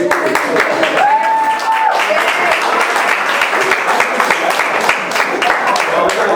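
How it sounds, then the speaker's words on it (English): Party guests at a 50th anniversary celebration break into loud, close applause lasting several seconds, with voices and cheering mixed into the clapping. "I think that Mark needs a round of applause"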